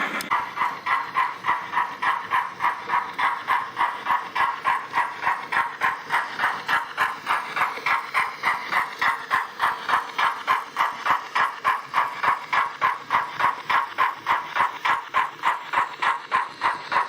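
A model train on a railway layout rolls past steadily, its wheels clicking over rail joints in a fast, even rhythm that holds at a moderate level throughout, with no talking.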